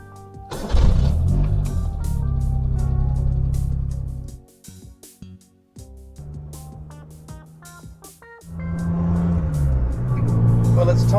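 An 80s Suzuki Mighty Boy with an 800cc engine idles and pulls away, its small motor droning steadily with rises and dips in revs, a brief lull midway, then a stronger, louder run at the end.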